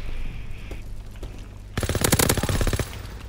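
Bursts of rapid automatic gunfire ring out in the World War II shooter game Call of Duty: WWII, loud and close, following a quieter stretch with a few scattered shots.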